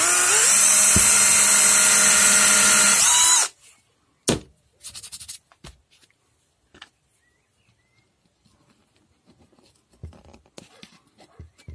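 A small power drill bores a little hole, a loud sustained whir for about three seconds that stops abruptly, followed by scattered faint clicks, knocks and handling sounds.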